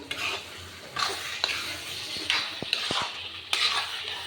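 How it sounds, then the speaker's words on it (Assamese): A spoon stirs soybean curry with spices frying in a pan, repeated scraping strokes and metallic taps over a steady sizzle. "আৰু এতিয়া লৰাই দিম, অকণমান ফ্ৰাই হ'ব দিম।"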